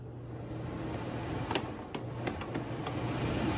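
Fans in a computer room run with a steady, loud whooshing hum, with a few sharp mechanical clicks over it and no one talking.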